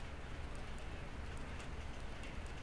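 Steady rainfall in the video game Project Zomboid, a faint, even patter and hiss that carries on without a break.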